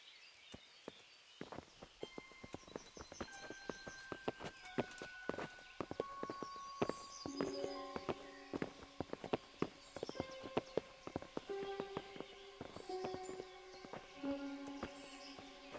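Horse hooves clip-clopping in Kingdom Come: Deliverance, a run of sharp, uneven hoof knocks close by under sustained musical tones and faint bird calls, growing busier toward the end.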